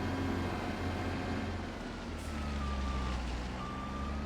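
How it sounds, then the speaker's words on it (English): A truck reversing in the Farming Simulator video game, on a snowy prairie farm, gives a steady engine drone under faint, repeated reversing beeps. "we'll see if we can move the truck here then"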